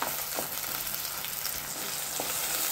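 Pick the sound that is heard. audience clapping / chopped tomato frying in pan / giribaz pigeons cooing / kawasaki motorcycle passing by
chopped tomato frying in pan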